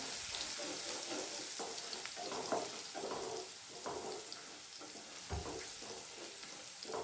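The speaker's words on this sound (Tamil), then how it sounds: "அந்த பூண்டு நல்லா எண்ணெயிலே வதக்கிட்டு" Garlic sautéing in oil makes a continuous sizzle, broken by repeated scraping stirs and clinks of a spoon against the pan, close and moderately loud.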